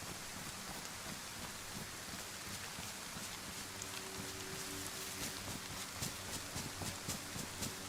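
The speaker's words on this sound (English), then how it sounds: "Too noisy, the rain." Steady, noisy rainfall in the video game DayZ, a dense hiss of drops on surfaces filling the scene, with faint low rumbles and soft tapping underneath.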